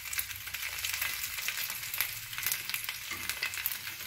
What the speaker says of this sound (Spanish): Antes de pasar por el microondas, la verdad vale la pena fritarlo.